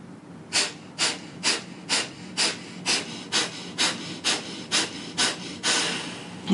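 Rapid rhythmic pranayama breathing during a morning yoga session, a dozen close, forceful breath pulses at a steady pace, ending with a longer breath, no talking.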